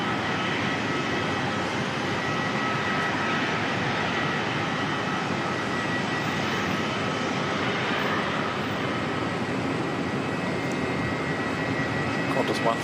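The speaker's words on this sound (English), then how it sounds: "Qantas 154 to Melbourne, heading off." A Qantas airliner bound for Melbourne departs Auckland Airport with a loud, continuous engine roar that holds steady throughout, rising slightly at the close.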